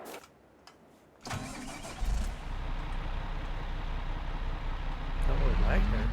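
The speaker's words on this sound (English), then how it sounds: "Let's jump in a tractor and see how it feels." A tractor engine in Farming Simulator 22 cranks and catches at about the two-second mark after a quiet start, then settles into a steady, loud, low rumbling idle with a brief voice at the beginning.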